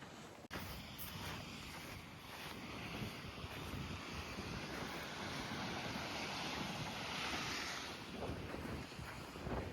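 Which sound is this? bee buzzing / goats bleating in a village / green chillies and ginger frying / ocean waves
ocean waves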